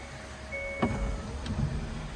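A motorized sunroof opens on a Hyundai Tucson Hybrid, a soft electric whirr with a faint steady tone, a clunk partway through and low cabin rumble, with no talking.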